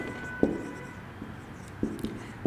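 Chalk or marker tapping and scraping on a board during a lecture on P-N junction diodes, a few short sharp knocks spaced irregularly over a quiet room hum, close and moderately loud.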